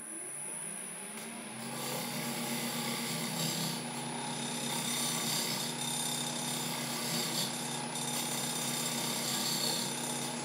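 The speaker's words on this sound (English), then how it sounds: "I've got the lathe spinning quite fast now" A wood lathe spins fast while turning a 12-inch fruit bowl, giving a steady, loud mechanical hum with a constant whine that rises slightly after the first second and then holds, with no talking.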